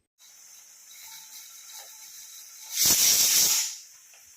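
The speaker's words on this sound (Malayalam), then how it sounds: "ഞാൻ രണ്ട് വിഷിലെന്ന് പറഞ്ഞെങ്കിലും ഇതൊരു നാല് വിഷിലോളം ഇടേണ്ടി വന്നു അതോരോ കുക്കറിൻ്റെ വ്യത്യാസമാണ്" A pressure cooker steams on the stove while cooking green peas. A low, steady hiss builds into a louder, close, rushing steam release for about a second before dropping back down.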